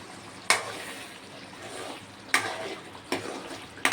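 Fried paneer being gently stirred into boiling gravy in a pan: soft bubbling simmer underneath, broken by a few sharp clinks and scrapes of the spoon against the pan, fairly quiet and close, with no talking.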